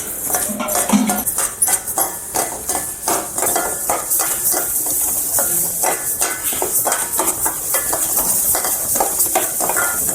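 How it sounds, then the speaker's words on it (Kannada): Dry rice is roasted on low flame for sambar powder and stirred steadily in a pan, giving repeated close scraping and rustling strokes over a faint sizzle. "ಈಗ ಈ ಅಕ್ಕಿನೂ ಕೂಡ ಕಡಿಮೆ ಉರಿಲಿ ಫ್ರೈ ಮಾಡ್ಕೊಳ್ಳೋಣ."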